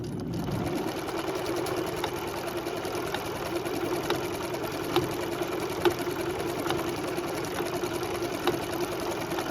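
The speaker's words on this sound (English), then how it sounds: "I'm also on the largest stitch my machine can make right now." A home sewing machine runs steadily at its largest stitch length during a vintage sofa repair, with a continuous mechanical whir and faint regular needle ticks, close and alone.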